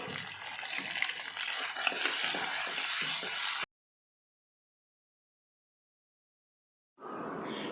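Tomatoes sautéing in a pan for vegetable pulao give off a steady broadband sizzle with light stirring scrapes, cut off by a few seconds of silence before the frying noise returns.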